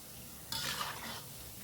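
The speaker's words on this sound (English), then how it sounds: "So you just keep stirring." A single brief scraping stir goes through Nigerian chin chin dough pieces cooking in hot oil, over a soft, steady sizzle.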